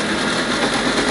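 Homemade impact dehuller for grains and seeds spinning up toward about 3,280 RPM, a dense, steady mechanical whir and roar that holds constant through the brief moment.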